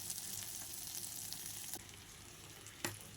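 Spiced masala sautéed in oil for a Bengali jackfruit and prawn curry, a soft continuous sizzle with a couple of brief spoon knocks, close but quiet, no voices.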